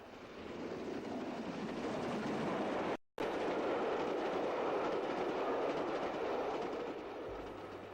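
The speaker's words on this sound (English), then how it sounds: "We move on to see an A3 at speed with a southbound express." An LNER A3 steam locomotive hauling a southbound express passes at speed, a loud continuous rushing roar of wheels and carriages holding steady throughout, with one brief dropout midway, no voices.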